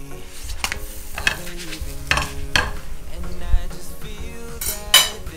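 A pancake cooks in a non-stick frying pan, a close sizzle broken by several sharp scrapes and clinks of a utensil against the pan at irregular intervals, with no voices.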